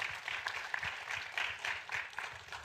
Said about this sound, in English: And I think, round of applause for Rebecca.